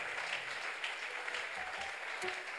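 A church congregation applauds in a steady wash of clapping that holds for the whole stretch, moderately distant, with a few faint voices mixed in.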